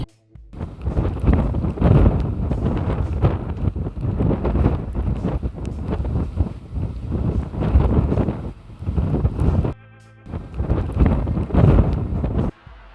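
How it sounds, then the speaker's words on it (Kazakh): Strong wind blasts across Asylkul lake, buffeting the microphone in loud, continuous roaring gusts with brief lulls, no voices heard. "қазір желді күшейді"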